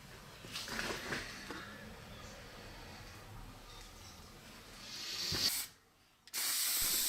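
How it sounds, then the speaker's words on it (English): Spray gun hisses nearby as clear coat lacquer goes onto a restored axe in brief bursts, with a longer spray rising near the end, then a pause before a loud steady hiss resumes. "So this is the last coat of clear coat now, first and last coat."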